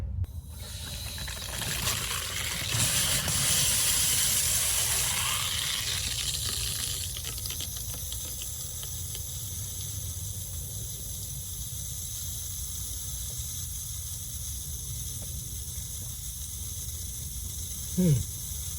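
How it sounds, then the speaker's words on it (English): Water rushes and hisses through a Rain Bird sprinkler valve after a diaphragm replacement, a broad steady hiss that swells early, then settles into a constant lower flow, with a brief bump near the end. "I hear water going out."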